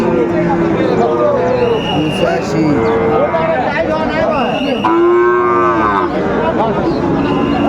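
A six-month-old Sahiwal bull calf moos repeatedly at a cattle market in Bogura, the calls rising over a steady babble of crowd talk and nearby voices.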